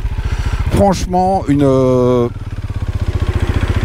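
Benelli Imperiale 400, Husqvarna Vitpilen 401 or Yamaha MT-03 (2020) motorcycle engine running steadily while riding, close and loud, a low pulsing drone under someone speaking French.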